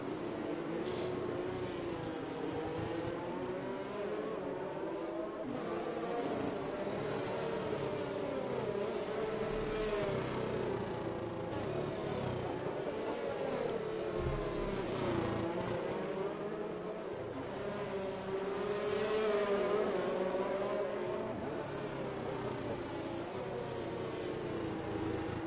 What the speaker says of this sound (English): So the safety car leads the field around turn 14.